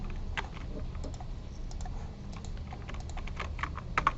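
Fingers typing on a computer keyboard during a programming lecture, a rapid irregular patter of close key clicks over a low room hum.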